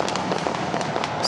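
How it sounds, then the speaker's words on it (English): Stadium fireworks after a Chicago White Sox home run in a baseball game, a dense, continuous crackle of bursts and pops with crowd noise, fairly loud and distant-sounding. "Cue the fireworks."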